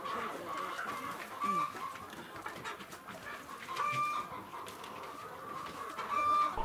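Laying hens on a small-scale poultry farm of about 620 birds cluck softly and intermittently against a dense, noisy barn background, with a few brief higher calls standing out.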